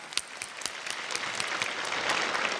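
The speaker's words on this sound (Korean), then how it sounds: "하나님께 영광의 박수 드리겠습니다." Church congregation at an early-morning special prayer service applauding in praise of God, a steady wash of many hands clapping at moderate distance with no voices.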